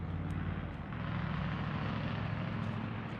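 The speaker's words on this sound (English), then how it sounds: "Loud cars echo through the mountains." Loud cars echoing through the mountains at a fall campsite, a continuous low engine roar rumbling from a distance without pause.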